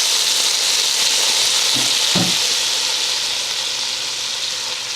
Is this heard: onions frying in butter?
yes